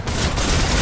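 Turret gunfire in the video game Fortnite, a loud, dense, continuous burst of rapid shots filling the whole moment with no pauses.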